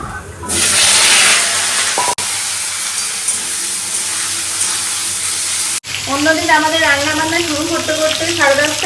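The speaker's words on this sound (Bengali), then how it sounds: "এখানে প্রথমে আলুটা ভেজে নেবো" Potatoes frying in a pan in a home kitchen, a loud steady sizzle that starts abruptly and holds, with someone talking over it in the second half.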